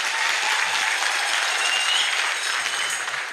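Congregation applauding a priest, Father Fredrick Chege, inside a Catholic church: a dense, sustained burst of many hands clapping at once, loud and even for the whole stretch, with no voices over it.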